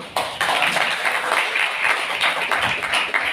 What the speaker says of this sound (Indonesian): Tepuk tangan lah, Cik.